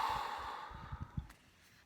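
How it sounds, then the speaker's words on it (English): A single big, deep exhale, soft and close, trailing off with light breathy puffs and then quiet. "take great big breaths in"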